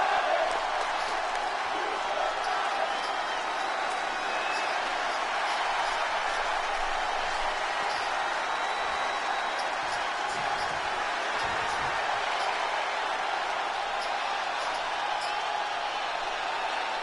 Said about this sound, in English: The crowd is pumped.